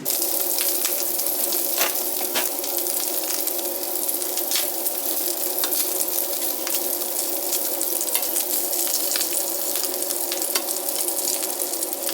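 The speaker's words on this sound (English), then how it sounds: "my pan's heated up. We're going to go ahead and throw the bacon on." Bacon strips sizzling and frying in a preheated pan, a steady close crackle with spitting pops running throughout, no voices.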